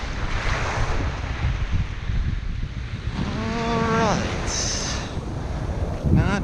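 Surf and wind on the Jersey Shore during striped bass fishing: steady roaring waves and gusting wind noise on the microphone, with a brief whistling or squealing tone partway through.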